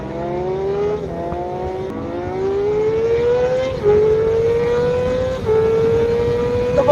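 A Yamaha R6 and Ducati motorcycles accelerate hard, the engine note climbing steadily through several gear shifts with a loud, continuous, rising whine close by.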